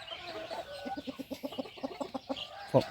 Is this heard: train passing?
no